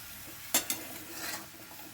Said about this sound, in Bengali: আবার একটু নাড়াচাড়া করব।